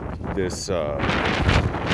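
Gusty wind buffets the microphone at an exposed mountain campsite, a rough roaring rush with a person speaking partly underneath it.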